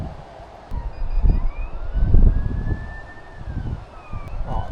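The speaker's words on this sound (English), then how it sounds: "Oh, I can hear sirens." A distant siren wails faintly outside an abandoned building, its pitch rising and falling slowly beneath gusty wind buffeting the microphone.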